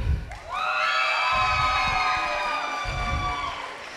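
An audience at a high school talent show cheers loudly, with whoops and children's shouts forming a sustained roar after a brief lull.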